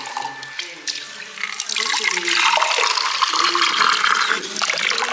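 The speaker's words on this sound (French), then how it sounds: "J'en prends un plein verre." Mineral water poured into a glass until full, a close steady splashing stream that rises and fills, with faint talk at the start.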